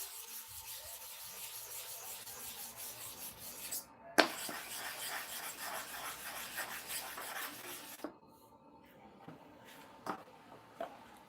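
Barber clipper blades are rubbed back and forth for sharpening, giving a steady, close scraping hiss. A sharp click comes partway through, then softer, sparser rubbing with occasional light taps.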